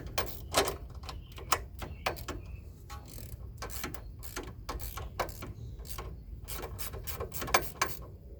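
An Allen key and wrench turning bolts on a Rough Country lift kit fitted to a Jeep Cherokee, giving close, repeated metallic ratcheting clicks in irregular bursts over a faint background hum.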